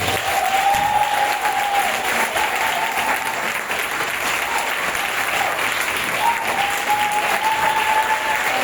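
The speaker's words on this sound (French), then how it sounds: "que je demande d'acclamer très fort" A seminar audience claps loudly and continuously, a dense, even wash of applause for a guest, with a brief cheer or whistle rising above it now and then.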